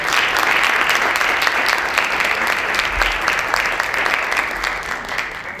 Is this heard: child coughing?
no